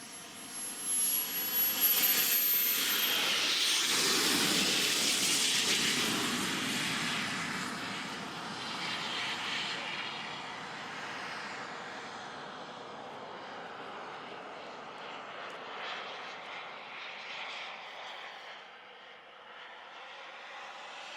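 An AirKnight F-16XL jet begins its takeoff roll with a loud, roaring whine that peaks early, then settles into a steady, slowly fading rush as it accelerates away.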